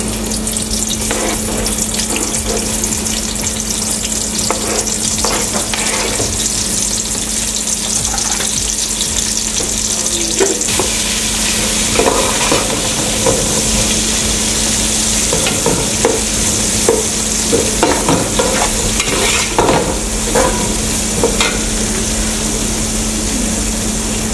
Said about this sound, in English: I'm going to use the same oil that I used to fry my beef to fry the onions